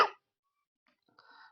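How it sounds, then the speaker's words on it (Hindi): A single short, sharp cough from a man with a cold during a physics lesson, close and abrupt, followed by silence and faint breathy sounds. "बीच बीच में खांसी आ जा रही है"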